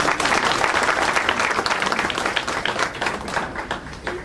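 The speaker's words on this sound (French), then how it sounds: "on va l'applaudir" A hall audience bursts into dense, sustained applause at a farewell ceremony for a US ambassador, loud and continuous throughout with no talking.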